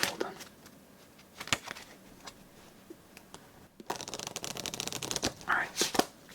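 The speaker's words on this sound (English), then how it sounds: "So we'll just be a little extra thorough to make sure they're all nice and shuffled." A deck of playing cards gets shuffled for a solitaire game, with soft riffling and tapping at first and then a longer, busier burst of card riffles. A voice talks quietly through parts of it.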